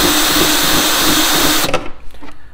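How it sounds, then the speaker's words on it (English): A power drill whines steadily at close range, boring a starting hole in a plastic milk jug, then cuts off abruptly, leaving a few light handling clicks and taps. "I just get a starting hole with my drill"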